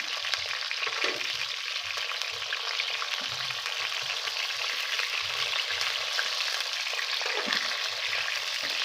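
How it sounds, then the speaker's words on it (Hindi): Pieces of eggplant fry in hot oil for an aloo baingan dish, giving off a steady, close sizzle with a few soft stirring bumps underneath and no talking. "अब इनको हम फ्राई होने देंगे अच्छे तरीके से।"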